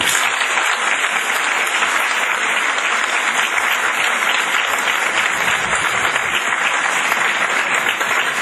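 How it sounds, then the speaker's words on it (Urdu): Sustained, dense applause from a seated audience after a presentation at a motivational talk, steady and full for the whole stretch with no voices over it. "آپ کی تالیاں بتائیں گی کہ آپ کو ان کی پریزنٹیشن اور ان کا اسٹائل کیسا لگا"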